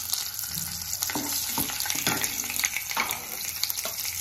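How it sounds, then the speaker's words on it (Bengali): Nigella seeds and a green chilli spluttering in hot oil for a fish curry tempering, a dense, loud crackling sizzle with scattered pops, heard up close and without talk. "তেলের মধ্যে আমি একটু কালো জিরে একটা কাঁচা লঙ্কা ফোড়ন দিলাম।"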